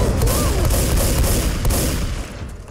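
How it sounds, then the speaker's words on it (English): A Tank exploding in Left 4 Dead 2, a dense continuous roar of booming, crackling blasts filling the whole stretch at high loudness, with no talk over it. "Something exploded behind me. It was the tank."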